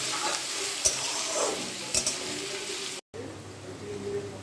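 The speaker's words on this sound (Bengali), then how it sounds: "তেজপাতা, শুকনো লঙ্কা আর পেঁয়াজটা দিয়ে ফোড়নে দিয়ে দিলাম।" Onion fries with bay leaf and dried chillies in hot oil, a bright steady sizzle with a few clinks of a utensil against the pan, briefly cut off and then a quieter sizzle resumes.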